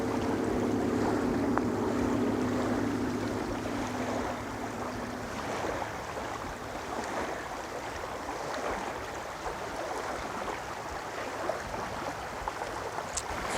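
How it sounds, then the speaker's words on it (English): Ocean waves wash steadily with a broad, continuous surf rush and some wind, holding at a fairly even level throughout with no talking. "Hearing the waves."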